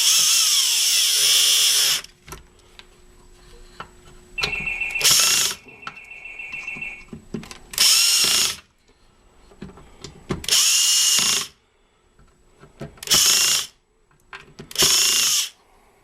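A power driver tightens carburetor bolts on a Briggs and Stratton Pulsa-prime engine in loud, separate bursts of whirring, about six in all, with quiet ratcheting clicks and handling noises between them.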